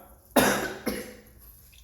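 A woodworker coughs after breathing sawdust during a build: one sharp, loud, close cough followed by a second softer one, then quiet room tone with no talk.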